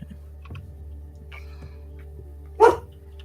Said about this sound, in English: All the dogs in the building were freaking